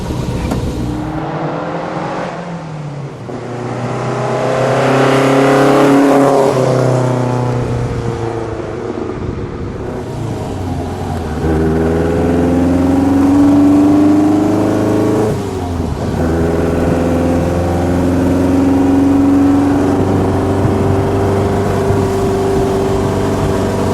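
The 1-liter four-cylinder engine of a 1965 ASA 1000 GT Spider hums and strains steadily while driving, its pitch climbing and falling through gear changes, close and fairly loud throughout.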